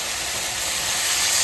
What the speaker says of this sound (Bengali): এবার শাকে জল দিয়ে দেবো।